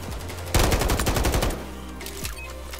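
Rapid automatic gunfire in a first-person shooter video game, a loud burst of quick shots lasting about a second, followed by quieter game ambience with a few faint distant pops.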